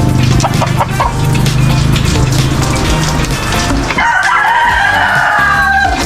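Eight chickens cluck and squawk close by in their coops during rain, with a rooster crowing loudly near the end over the busy background of the flock.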